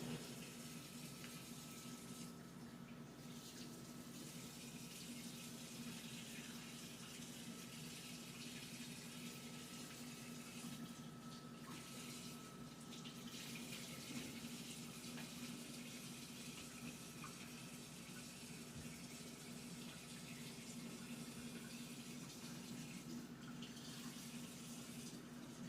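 A bathroom tap runs in a steady, quiet stream while beard product is rinsed off, the flow continuing unbroken with no voices.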